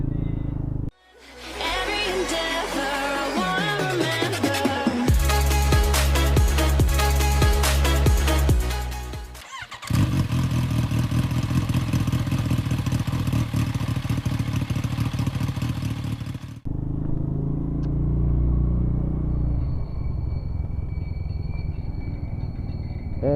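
Yamaha Lexi 125 motorcycle riding through a housing area, the engine rumble and road noise steady and close throughout, with a brief dip early on and shifts in tone as the ride continues.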